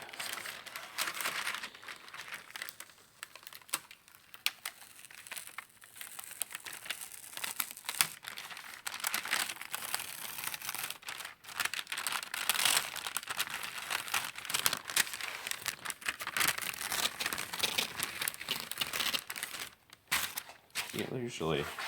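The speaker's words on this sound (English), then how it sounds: "now I'm going to pull the paper off of this" Backing paper peeled from a resin-coated sailboat port lens part, crinkling and tearing paper close by, with someone talking over it.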